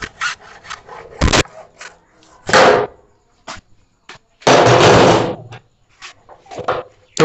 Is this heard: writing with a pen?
no